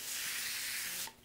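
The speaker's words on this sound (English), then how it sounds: "I have my little sprayer that I use for all my seeding. And I'm just going to take and just give it a light spray." A brief, close hiss of a hand sprayer misting water onto pepper seeds on a paper towel for about a second, then cutting off.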